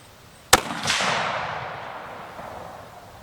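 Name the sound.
Browning X-Bolt 6.8 Western rifle shot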